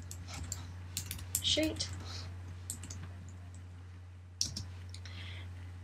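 Someone types quickly on a computer keyboard while writing HTML code, with close, irregular key clicks and a sharper tap near the end. Someone talks over the typing and a low electrical hum runs throughout.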